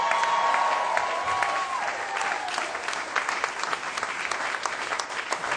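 Audience at a comedy club applauding as the headlining comedian is brought to the stage, a dense steady wash of clapping that holds loud throughout with a brief tone early on.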